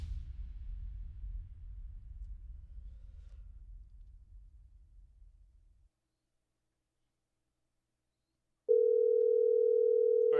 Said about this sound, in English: Jacob dials 911, seemingly at his wit's end.